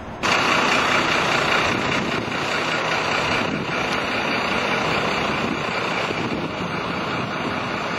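Heavy truck engine rumble and car traffic along a bike lane crowded with parked and passing vehicles, a loud steady roar throughout with faint beeping.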